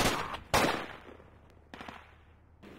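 A few sharp gunshots in the tactical shooter Project Reality, two loud reports close together near the start and a fainter pair later, each trailing off into a quiet echo with no one talking.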